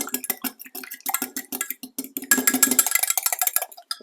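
Whisking egg and oil together in a bowl before adding buckwheat pancake mix, a quick steady run of light clinks and taps that grows busier and louder partway through.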